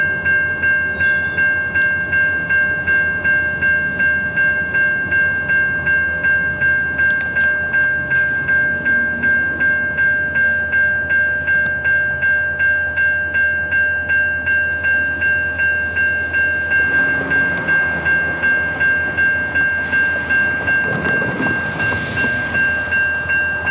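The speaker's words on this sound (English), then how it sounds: "the locomotive had to be ran around the train to shove the remaining hopper cars" CN local freight train with an SD40-2W locomotive shoving hopper cars, a steady rumbling diesel drone with a long, sustained horn tone running throughout and clanking rail noise building near the end.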